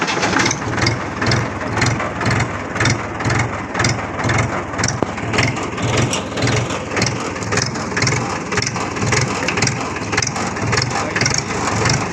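A heavy engine chugs steadily in a fast, even rhythm of low thumps, running continuously without a break.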